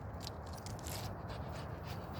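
Patterdale-type terrier panting steadily, quick rhythmic breaths close to the microphone under a constant broadband hiss, no talking.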